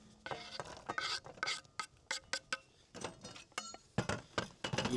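Chopped onion halves and half-rings tip into a container at a lakeside outdoor cooking spot, a near, faint series of rustling, clattering taps and scrapes.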